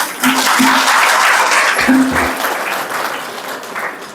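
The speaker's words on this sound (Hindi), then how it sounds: "ताली बजाओ।" A crowd clapping steadily at a spiritual class in an ashram, a dense wash of applause that starts loud and gradually fades, with faint voices underneath.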